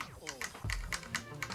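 A single key on a computer keyboard pressed while working in font-editing software, a few light, close taps heard under someone speaking.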